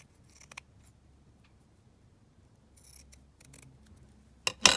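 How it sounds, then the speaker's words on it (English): Scissors snip through a piece of lace for a junk journal card, with a few quiet, sparse cuts and one louder, close snip right at the end. "So let me just cut out another piece."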